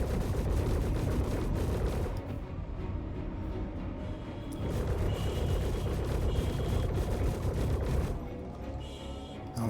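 Spaceship guns in Star Citizen fire in rapid, continuous bursts while the ship orbits a target during a flight-school scenario, the loud rattling volleys running almost nonstop with brief lulls.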